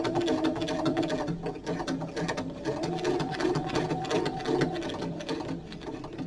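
A sewing machine runs steadily, stitching lace onto a fabric pen case for a journal, its rapid needle chatter continuous and close with only brief dips in pace.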